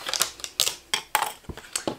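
A Big Shot Switch die-cutting machine runs a pass over paper, giving a series of short, sharp mechanical clicks and clacks in an uneven rhythm, close and fairly quiet with no talking.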